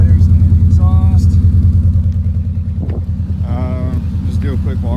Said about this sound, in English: an exhaust video here. Letting it warm up right now.